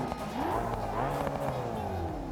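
A stick-shift drag car engine in the video game BeamNG revs with rising and falling pitch, a brief burst of throttle sweeps, loud and close.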